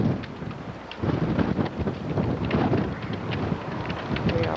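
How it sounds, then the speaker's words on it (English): Steady wind gusting across the microphone on a hilltop at Dover Castle, a low buffeting roar that strengthens after the first second and stays loud throughout. "It is very windy."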